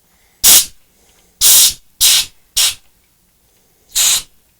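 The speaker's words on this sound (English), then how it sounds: "as I release the pressure inside the keg, we're probably going to get some beer coming out through the pressure relief valve" Pressure relief valve on a homebrew beer keg venting in five loud, sharp hissing bursts of gas and beer, each under a second, separated by brief silences.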